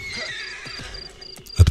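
A horse neighs in a fairy tale, a loud close whinny bursting out alone near the end after faint rustling background noise.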